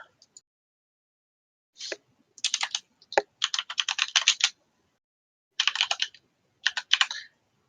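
Close, fairly faint typing on a computer keyboard comes in several short rapid bursts of clicking keys separated by brief pauses, with no talking.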